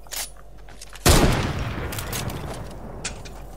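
Gunfire in the video game Fortnite: a faint shot first, then one loud close blast with a long booming tail that decays, and fainter reports following.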